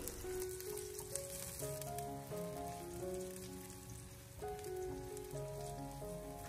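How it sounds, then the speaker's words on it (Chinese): Chopped aromatics stir-fry in hot oil in a wok, giving a continuous soft sizzle beneath steady background music. "油热之后，把切好的小料放进锅中，给它翻炒一小会，将小料翻炒出香味。"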